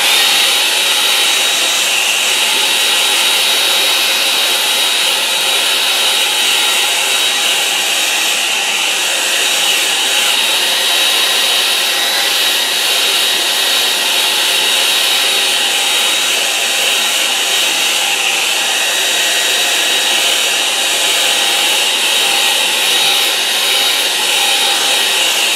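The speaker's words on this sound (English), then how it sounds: "Find my hairdryer." A hairdryer runs loud and steady, close by, with a constant broadband whoosh and a thin high whine throughout, unbroken from start to finish with no talking.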